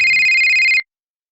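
A telephone rings with a loud, close, steady electronic tone, holding for under a second before cutting off abruptly. A faint low rumble sits underneath at the very start.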